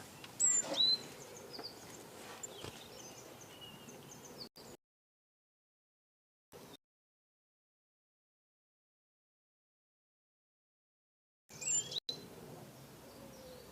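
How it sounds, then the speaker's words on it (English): Birds chirp faintly beside a canal near a floating home, with a few sharp high calls at the start and end around long stretches of silence. "I don't know what's happened to the birds, but we can hear them, can't we?"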